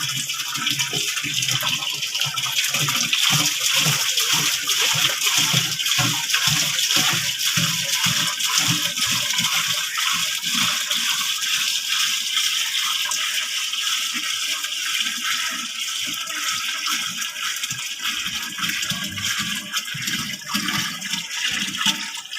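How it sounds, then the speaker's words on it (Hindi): Steady gushing water, 30 kilograms in all, pours continuously into a liquid mixer tank for making shampoo, a loud, full splashing roar that holds for the whole stretch with no talk over it. "ये पानी हम लिक्विड मिक्सर के अंदर डालेंगे।"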